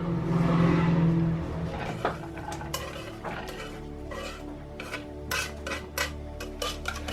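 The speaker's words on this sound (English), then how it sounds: "let's go ahead and add the onions." Onions dropped into a pan of hot oil while cooking burgers, giving a sizzle that starts with a tonal hum and then settles into clicks and scrapes of a utensil against the pan.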